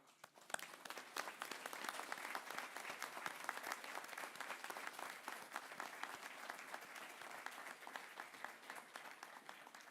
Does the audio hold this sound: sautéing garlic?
no